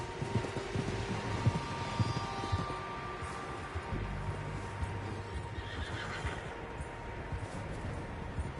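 Several horses in Red Dead Redemption 2 whinny and neigh over a steady outdoor ambience, with soft hoof clip-clops early on, moderately distant.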